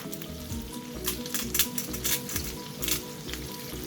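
Steak frying in butter in a pan, a steady close sizzle with soft crackles and faint stirring, no voices over it.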